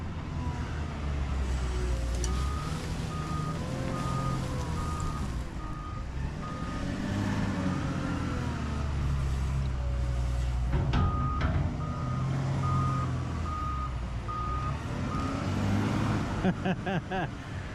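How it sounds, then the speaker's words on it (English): Three Hyundai wheel loaders, two 960s and a 955, work a mulch pile, their diesel engines rumbling and revving continuously while steady reversing beeps repeat on and off over the top, moderately close. "So we got all 3 loaders running over there to the mulch pile"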